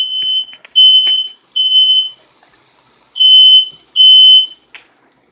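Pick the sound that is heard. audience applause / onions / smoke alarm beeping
smoke alarm beeping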